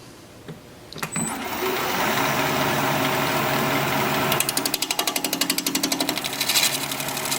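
Wood lathe spinning an end grain mesquite bowl while a scraper shears across the surface, a steady dense whir that turns into a rapid chattering pulse partway through, loud and close with no talk.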